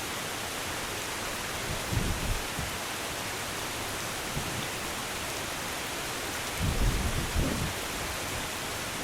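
Heavy rain falling steadily in the Lake District hills during a coast-to-coast hike, a dense, constant broadband hiss with no voices, swelling briefly with a couple of low rumbling gusts or footstep thuds.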